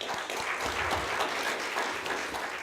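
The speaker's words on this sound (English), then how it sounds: "Why don't we give them a big round of applause?" Round of applause for candidates at a city council candidate forum, a steady medium-sized crowd clapping at moderate distance, even and unbroken throughout.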